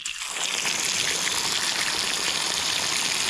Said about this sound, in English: Well, there's water, guys. Water is here.